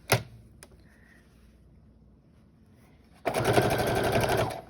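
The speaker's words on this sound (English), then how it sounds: "put it back up under the machine, and start sewing from the edge" A sewing machine stitches binding onto a quilt: a sharp clunk and a quieter pause, then a loud, fast, steady run of stitching close by.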